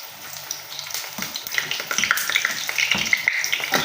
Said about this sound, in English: The oil is already heated. I'm going to add my plantain.